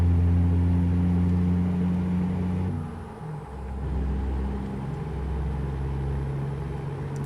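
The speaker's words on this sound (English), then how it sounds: "That Kenworth 963 is quite the monster." Heavy Kenworth 963 truck engine, heard as a loud, deep, continuous rumble that dips briefly partway through and then settles back into a steady low drone, with no voices over it.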